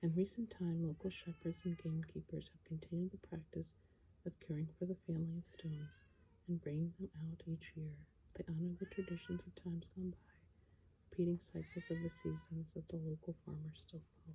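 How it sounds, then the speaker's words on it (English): A cat meows repeatedly, its rising, wavering cries cutting in above a steady stream of close talking. "And that is my cat."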